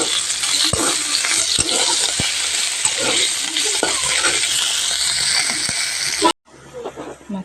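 Fish frying in a pan, a steady loud sizzle with scattered stirring clicks and scrapes, cutting off abruptly near the end, with a voice speaking over it.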